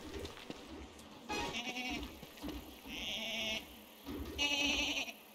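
Horned goat creatures in the game Don't Starve give several loud, wavering bleats, coming one after another over steady game background sound.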